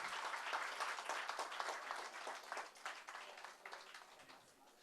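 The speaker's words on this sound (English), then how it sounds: "Big round of applause for all our guests," Audience applause for guests at an event called Prarambha 2022, a steady dense crowd clapping that carries on throughout and tapers slightly toward the end.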